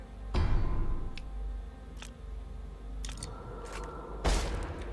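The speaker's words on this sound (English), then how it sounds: "What's the doctor done to deserve all this gunfire?" Scattered sharp gunshots crack over a low rumbling backdrop in the video game Plague Road, with a few lighter ticking clicks between the louder bursts.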